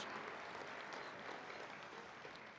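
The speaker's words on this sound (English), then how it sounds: "Let's give a round of applause to our state and territory representatives, region chairs, and executive board members." Dense, steady applause from a large conference audience at the NACD 2025 Annual Meeting opening session, honoring state and territory representatives, sustained throughout without a break.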